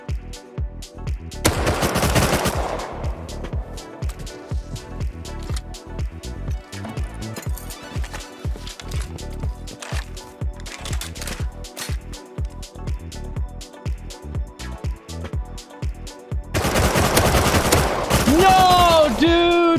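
Rapid gunfire from the survival video game Rust, dense bursts of close shots in quick succession across the whole stretch, louder clusters near the start and end, with a voice talking in places.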